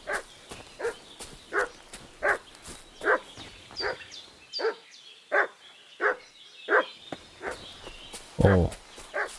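A dog barks repeatedly and excitedly in the medieval video game Kingdom Come: Deliverance 2, a steady string of loud woofs roughly every half second, mixed with footsteps and a brief louder burst near the end.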